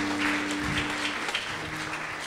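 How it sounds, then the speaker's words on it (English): A worship congregation claps together in a church service, the dense applause filling the room while a sustained musical tone lingers underneath and slowly fades. "Give a clap offering to Jesus."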